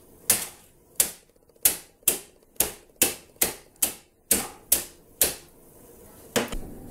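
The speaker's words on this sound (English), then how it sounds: "I'm going to take a can or whatever and just break them up to bite-sized" A can strikes dry lasagna noodles inside a plastic baggie in about a dozen sharp, crisp cracks at a steady pace, close up, with a brief pause before a final strike.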